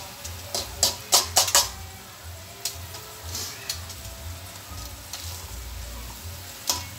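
Chicken tocino frying in a pan for a simple breakfast, a steady close sizzle with sharp crackling pops bunched early and scattered later, no talk over it.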